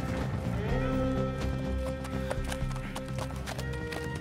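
Horse hooves in a video game, a steady galloping clip-clop that runs continuously over a background music bed.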